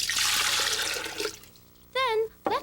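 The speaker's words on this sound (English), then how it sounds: "let's add some water from the dishwasher." Water pours into a beaker with a steady splashing hiss for about a second, then stops; a voice speaks briefly afterward.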